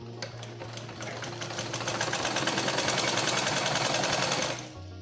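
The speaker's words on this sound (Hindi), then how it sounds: "दोनों साइड ही हमें अपनी चाप सिलाई चला देनी है" A sewing machine runs steadily for about four seconds, sewing lace into the side seams of a cotton kurti. Its rapid, even stitching whir is close and loud and stands alone, then stops near the end.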